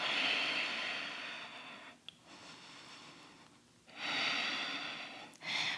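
Slow, audible ujjayi breaths during a strengthening yoga flow rise and fall close to the ear, with long airy exhales and softer pauses between them and no talk.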